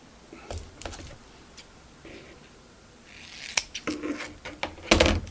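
Scissors snipping strips of tape for homemade BubbleGaff, a few faint cuts at first, then a quick cluster of sharp, close snips and crinkles toward the end.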